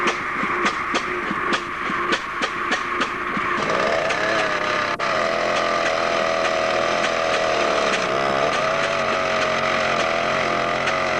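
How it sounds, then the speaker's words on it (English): Ruston Hornsby engine-driven sawbench: the engine's rhythmic beats give way to a loud, sustained buzzing whine as the blade bites into and cuts through wood, close and continuous. "Now I'm going to demonstrate the power of the sawbench."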